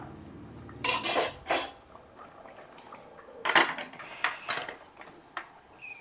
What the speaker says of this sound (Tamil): இந்த நேரத்தில் குக்கர் மூடியை போட்டுடலாம்